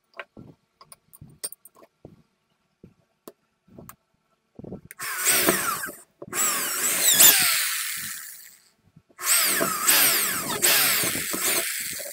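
A power drill bores holes for a homemade TV antenna: quiet handling clicks and taps first, then two long loud whirring bursts of drilling with a short pause between.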